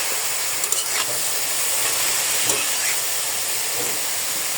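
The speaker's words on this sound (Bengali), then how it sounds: "শাক কখনো ঢেকে সিদ্ধ করবেন না খুলে সিদ্ধ করবেন" Leafy greens boiling in an open, uncovered pot give a steady broad hiss and bubbling, with a few faint clinks and stirs on top.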